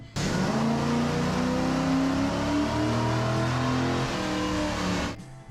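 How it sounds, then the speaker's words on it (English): A 1990 Chevrolet Corvette with about 247,000 miles revs hard on a chassis dyno, a loud, sustained engine roar that holds steady for several seconds before cutting off abruptly. "Today we're going to get the Corvette on the dyno."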